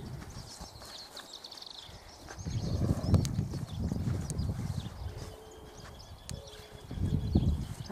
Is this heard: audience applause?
no